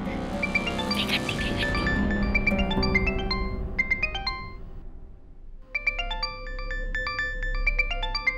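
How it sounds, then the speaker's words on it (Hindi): A mobile phone ringtone plays loud and near as a bright, repeating electronic melody, pausing briefly midway before starting up again with the same chiming pattern. "थारो फोन आयो है।"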